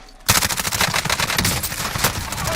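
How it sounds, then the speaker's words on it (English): Rapid automatic gunfire in Call of Duty Modern Warfare multiplayer, an MP5 submachine gun loadout, bursts out after a brief quiet and continues as a loud, dense, close rattle of shots. "I'm under fire!"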